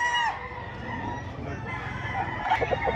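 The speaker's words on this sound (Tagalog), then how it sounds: "Napakagandang klaseng manok." Roosters crow at a chicken market in Lipa, Batangas: a loud nearby crow opens, followed by clucking and further crowing amid a busy background of many fowl.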